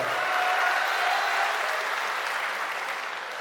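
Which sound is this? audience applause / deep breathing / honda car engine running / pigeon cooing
audience applause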